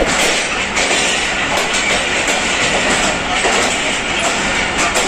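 Jaffar Express train at platform 7 of Lahore Junction, a loud, steady rumble of rolling rail cars with continuous clickety-clack from the wheels, close by and unbroken throughout.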